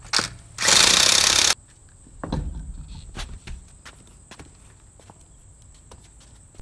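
Air impact wrench loosening the front wheel lug nuts on a raised 2015 Chevy Silverado, one loud sustained burst of about a second followed by quieter clanks and handling noises.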